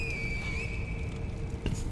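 A whistle tone in the game Sekiro, a steady held pitch that glides slightly, heard alone over a dense, busy background of game ambience.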